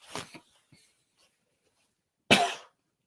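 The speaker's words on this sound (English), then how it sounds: "hold on one second, I got a cough" Two sharp coughs, one at the start and a louder one near the end, separated by quiet with faint breathing.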